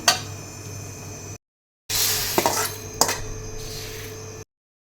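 Roasted pumpkin seeds are poured out of a kadai. A dry, rattling clatter comes in two bursts separated by a brief silence, with a few sharper ticks of seeds hitting metal.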